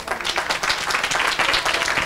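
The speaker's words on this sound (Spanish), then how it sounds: "Un aplauso." Audience applause at a Spanish-language talk on peace culture and resilience, dense steady clapping from a crowd throughout, fairly loud and with no voices.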